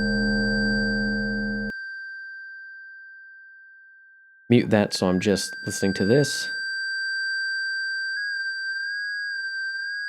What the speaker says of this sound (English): you hear there's a little bit of weird ring modulation type of thing going on